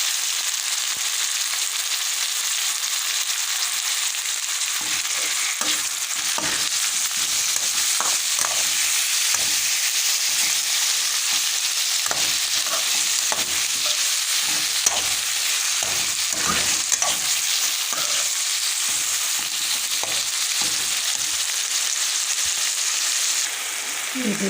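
Tomatoes and green chillies fry with garlic and ginger in hot oil, giving a loud, continuous close-up sizzle. Scrapes and clinks of stirring break through now and then.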